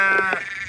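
A sheep bleats close by in a short, wavering harmonic call near a farm where a man is parked, with a second bleat following on a windy day.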